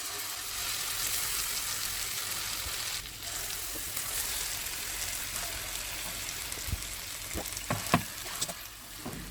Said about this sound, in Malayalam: ചിക്കൻ ഓരോന്നായിട്ട് ഇട്ടിട്ട് ഫ്രൈ ചെയ്തെടുക്കാം.